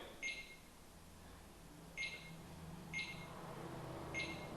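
A ghost-hunting device beeps to signal a temperature change, four short, faint electronic chirps spaced about a second apart over a quiet, hushed room.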